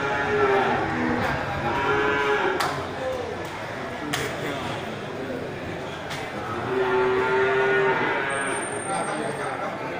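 Bali cattle moo amid a busy, noisy livestock market, with a low, steady crowd murmur and scattered knocks in the background.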